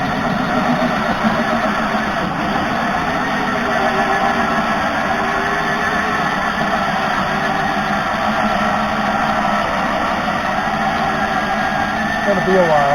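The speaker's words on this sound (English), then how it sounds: "Cutting yet another hole in the side of my house" A power tool cuts a hole through the concrete-like exterior wall of a tiny house, making a steady, loud grinding drone that holds without a break from start to finish.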